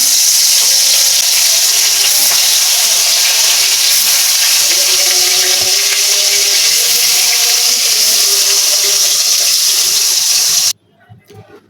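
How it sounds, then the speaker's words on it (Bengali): Koi fish coated in salt and turmeric hit hot oil with a loud, steady frying sizzle that holds for about eleven seconds, then drops off sharply near the end. "লবণ হলুদ মাখানো কই মাছগুলোকে দিয়ে দেবো"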